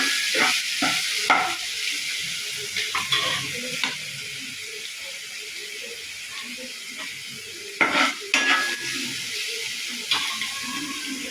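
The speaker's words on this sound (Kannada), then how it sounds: "ಅದು ಹಸಿ ವಾಸನೆ ಹೋಗೋ ತನಕ ಒಂದು ಸ್ವಲ್ಪ ಫ್ರೈ ಮಾಡಿ" Ginger, garlic and green chili paste fries in a pan with a soft, continuous sizzle, broken by a few clinks and scrapes of stirring, heard up close without speech.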